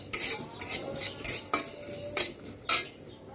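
Panch phoron frying in a pan while a metal spoon stirs it, sharp clinks and scrapes against the pan over a faint sizzle, close and without talk.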